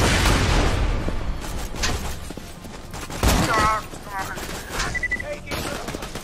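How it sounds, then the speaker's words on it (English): Grenade blasts and gunfire in Borderlands 2 combat, dense booms and rapid shots at the start that thin into scattered pops, with someone talking over it and electronic game tones. "More grenades."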